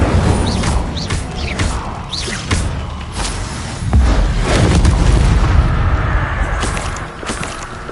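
An Incendio fire spell is cast in the video game Hogwarts Legacy: loud, continuous rumbling blasts and bursts with heavy low-end roar that swells and fades over several seconds, no voices.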